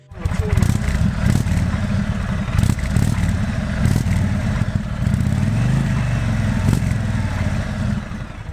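The 116 engine of a 2022 Indian Chief Dark Horse motorcycle runs with a loud, steady low rumble and a few throttle blips, close by with no talk over it.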